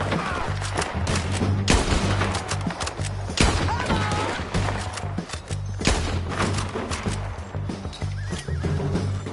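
Gunfire in the video game Red Dead Redemption 2 cracks out in several sharp bursts amid a dense, loud mix of galloping hooves and neighing horses, with faint shouting underneath.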